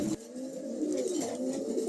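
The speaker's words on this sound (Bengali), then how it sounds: "খুবই চমৎকার একদম একজোড়া কবুতর" A pair of new adult pigeons cooing, soft low rolling coos repeating close by throughout a short stretch, no talk.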